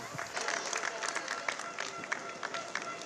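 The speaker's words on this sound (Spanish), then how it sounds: "Fuerte el aplauso a las perseguidoras dominando el sprint" A crowd applauds at a women's road cycling race in Estella, a dense spread of distant clapping mixed with the clatter of passing riders while a voice speaks over the top.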